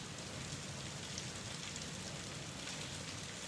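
Steady rain falls in a soft, even hiss with dense pattering on surfaces. It is quiet and continuous throughout, with no voices.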